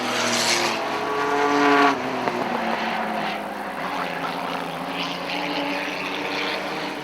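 Four-cylinder race cars roar past at Airborne Speedway in Plattsburgh, New York, one loud engine sweeping by close and then fading into a continuous, more distant drone of other cars circling the track.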